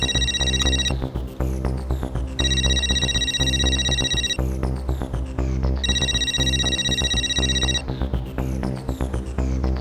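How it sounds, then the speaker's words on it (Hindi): A phone rings on a secret number with three repeated electronic ringtone bursts, each lasting about two seconds, over a steady low hum and background music. "सीक्रेट नंबर पर फोन,"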